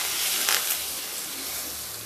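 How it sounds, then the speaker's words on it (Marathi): Hot spice tempering poured into a hollow in a beetroot salad, giving a steady, close hiss and crackle with a sharper burst of sizzle near the start, then a continuous fizz to the end. "छान अशी चरचरीत फोडणी घातलेली आहे कोशिंबिरीला"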